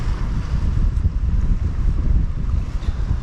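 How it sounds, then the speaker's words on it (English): Gusty wind buffets a microphone outdoors at a seaside spot while fresh mackerel ceviche is plated, a loud, steady low roar with fluctuating rushes and no voices. "the wind has literally just picked up a little"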